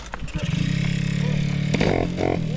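A Peugeot 103 moped engine catches on the first try and revs, a loud, close two-stroke buzz rising in pitch with rattling clatter, while voices call out over it.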